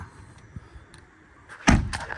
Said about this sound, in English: It's a lot easier if you close the door.